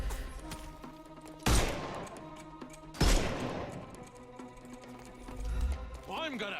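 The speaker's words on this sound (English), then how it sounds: "Someone's still shooting me." Gunfire in a Sherlock Holmes video game: two sharp, loud shots about a second and a half apart, each with a crashing decay, over a low ambient bed, with a brief voice near the end.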